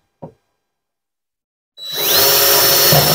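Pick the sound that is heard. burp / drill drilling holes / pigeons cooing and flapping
drill drilling holes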